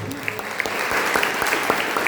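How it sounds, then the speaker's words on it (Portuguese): A church congregation claps together in a brief, dense burst of applause, steady and fairly close. "tem uma salva de palmas bem forte para a gente"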